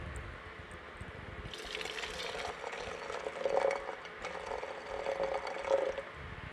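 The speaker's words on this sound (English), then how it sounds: "I'll just measure out my water." Water poured into a container to measure it for brewing coffee, a close gurgling trickle that swells and rises in pitch as the vessel fills, with no talk.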